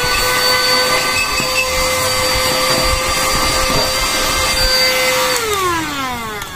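A small cordless portable vacuum cleaner runs loud and steady with a high motor whine, then powers down near the end as its pitch slides downward.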